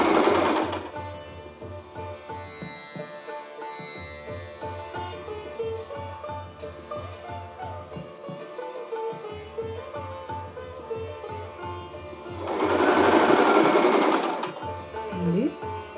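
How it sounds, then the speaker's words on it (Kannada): Sewing machine stitching satin fabric for a scrunchie: a rapid, even mechanical clatter running nearly the whole time, with brief pauses and a louder whirring burst near the end. "ಮತ್ತು ಇದನ್ನು ಸ್ಟಿಚ್ ಮಾಡ್ತಾ ಹೋಗೋದು."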